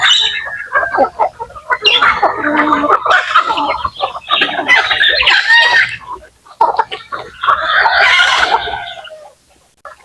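Texas and native chickens cluck loudly and continuously while feeding, close by, with overlapping bursts of clucking and short pauses in between.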